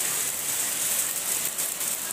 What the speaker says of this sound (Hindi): बारिश का पानी, बारिश की आवाज़ क्या कह रहा है